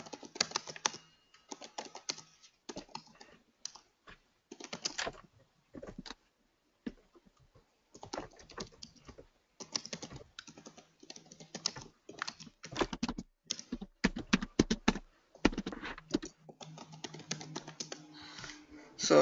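Someone types on a computer keyboard in bursts of rapid, close key clicks separated by short pauses, with a voice occasionally faint in the background.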